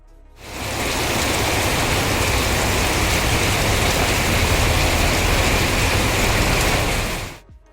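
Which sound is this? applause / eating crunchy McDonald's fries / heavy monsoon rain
heavy monsoon rain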